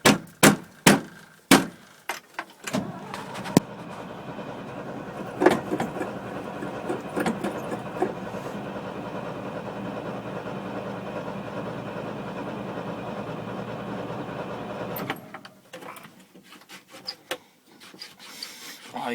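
An old engine, sitting unused for a year with a stuck choke, is cranked in several sharp, uneven bursts before it catches and runs roughly with a rasping clatter for about twelve seconds, then cuts out into scattered knocks and handling noises.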